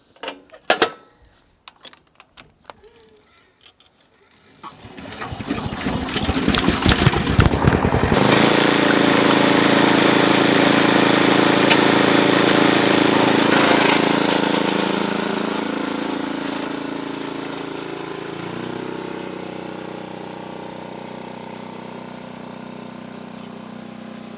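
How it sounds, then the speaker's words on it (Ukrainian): A Forte 8 hp heavy walk-behind tractor engine starts after a few clicks and knocks, revs up loud and close, then settles into a steady rough running drone that eases slightly toward the end, with no talk. "Ну що ж, заводимо свого важкотяжа і потихеньку рухаємося на огород."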